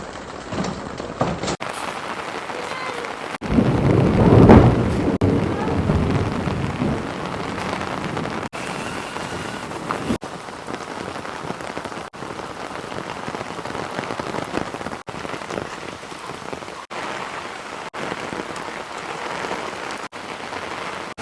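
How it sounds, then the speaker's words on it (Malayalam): Rain patters steadily on a surface while a deep roll of thunder swells early on and fades, with the downpour continuing alone afterward. "അപ്പോൾ നല്ല ഇടിമിന്നലുണ്ട്"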